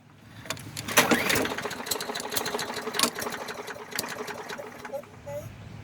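A Craftsman lawnmower that won't start is cranked repeatedly, giving a rapid mechanical whirring and clattering that never catches. The sound stays fairly close and moderately loud throughout.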